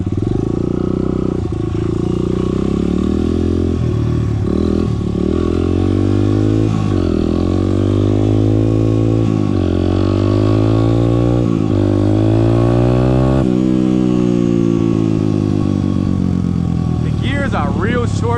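A small, underpowered XR100 stunt motorcycle engine revs up and down again and again at close range, with rising and falling whines through the clip, and a voice talks faintly underneath.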